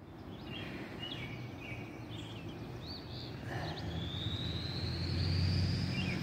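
Birds chirp and call intermittently outdoors in a garden on a frosty morning, faint and somewhat distant over a steady low rumble of background noise.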